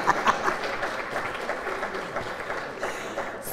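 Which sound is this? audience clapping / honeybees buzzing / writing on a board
audience clapping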